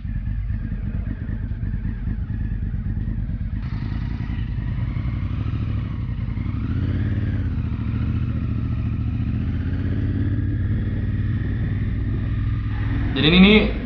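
A heavy Honda Africa Twin motorcycle engine drones steadily at close range while riding a sandy road, with low rumbling and occasional clatter, under wind noise and faint rhythmic thumping.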